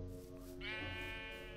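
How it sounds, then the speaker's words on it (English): One short sheep bleat in Minecraft sounds out clearly over a low, steady background hum. "A sheep."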